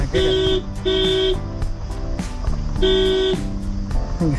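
Loud, close car horn blasts sound in a repeating pattern, a couple of long honks, a pause, then more, over traffic rumble on a mountain road trip.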